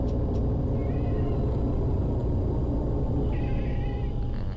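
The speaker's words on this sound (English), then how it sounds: "We got max points for hello Smudge, yeah, meow" A pet cat meows twice, short wavering calls near the start and again near the end, heard over a loud, steady low rumble of tram-simulator driving noise.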